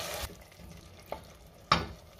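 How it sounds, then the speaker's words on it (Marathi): Yogurt stirred into masoor pulao over a low flame, a soft background sizzle broken by three brief scraping stirs of a spoon, the last one loudest and close. "ह्यातच आपल्याला आता दही घालायचे आणि सगळं व्यवस्थित मिक्स करून घेऊया"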